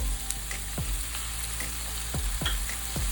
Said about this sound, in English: Add the tomatoes into the onion mixture